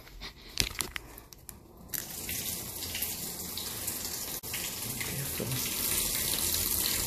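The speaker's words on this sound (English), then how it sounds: "I want to fill up this tub." Tap water running steadily into a bathtub as it fills, a continuous broadband rush that builds and grows slightly louder, with a few knocks and clatters near the start.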